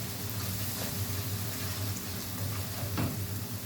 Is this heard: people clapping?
no